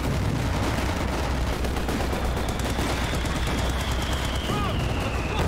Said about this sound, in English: oh, it's a mortar.